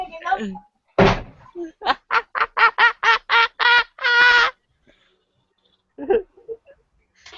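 A cartoon-style duck quacks in a rapid run of about a dozen loud, nasal quacks after an opening thump, with a voice talking briefly before and a couple of quacks after a pause.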